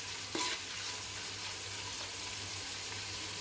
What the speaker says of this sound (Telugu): ఆనియన్స్ కూడా వేసేసి బాగా వేపాలి. ఇది బాగా ఫ్రై, పచ్చిమిర్చి కూడా వేసి బాగా ఫ్రై చేసుకున్నాం.